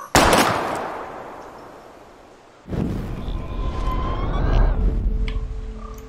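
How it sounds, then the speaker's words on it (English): Gunshots fired at bottles in the video game Life Is Strange, two sharp loud reports a few seconds apart, each followed by a long ringing decay and rumble. "We're gonna shoot all these bottles without wasting a single bullet."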